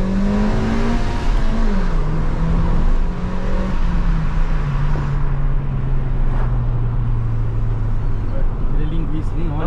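A Suzuki Swift Sport's engine drones steadily as the car accelerates, its pitch sliding gradually through the gears, heard from inside the cabin with a person talking over it.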